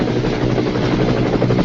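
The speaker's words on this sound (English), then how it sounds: "How about if I gave you the helicopter sound along with some explosions?" A helicopter sound effect played during a live stage show: a loud, steady rotor-and-engine drone that holds without a break for the whole short stretch, with no voices over it.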